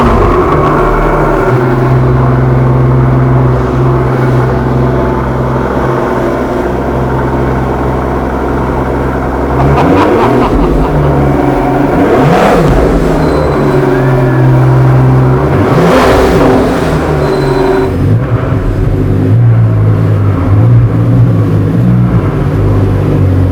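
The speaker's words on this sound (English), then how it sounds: "we could also start it, so we can hear that cold start" Pagani Huayra BC Roadster supercar engine firing up from cold, a loud continuous rumble swelling into several sharp revs with rising and falling pitch, close by and steady throughout with no talk.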